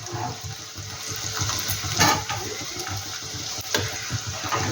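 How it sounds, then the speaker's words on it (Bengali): Chicken pieces going into a hot pan of fried spices and curry leaves for a chicken pickle, with a loud wet sizzle and hiss that flares up, then settles into steady frying with stirring. "এবার আমি চিকেনটা দিয়ে দেবো"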